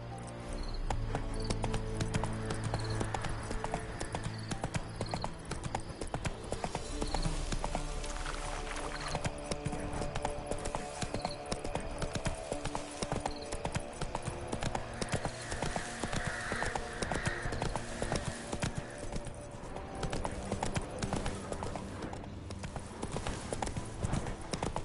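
Hoofbeats of Geralt's horse Roach galloping in The Witcher 3, a steady rapid clip-clop running throughout alongside a game music score, with a brief whinny and faint voices at times.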